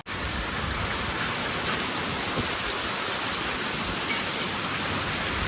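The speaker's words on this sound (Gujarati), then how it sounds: "વરસાદ ચાલુ હતો વરસાદ આવતો હતો" Continuous heavy rain hissing steadily on surfaces at Kedarnath, a dense even wash of sound with no voices.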